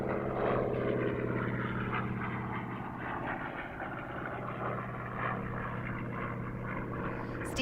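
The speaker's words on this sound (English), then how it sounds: "let's listen in as we have the Bearcat coming right past us." A Bearcat piston propeller aircraft roars past at the Reno air races and airshow, a loud, steady engine drone with a deep propeller hum that holds for several seconds without fading.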